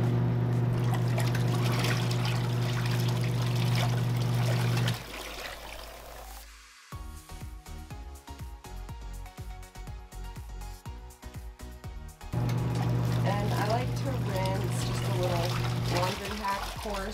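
A Giantex/Costway portable mini twin tub washing machine agitating a load, water sloshing and trickling with a motor hum and rhythmic churning clatter in the middle, flanked by sustained droning passages at start and end.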